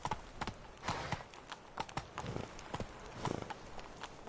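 Roach the horse trotting in The Witcher 3 on PS4, a steady run of hoof clip-clops at moderate distance, with a faint whinny-like touch and no talk over it.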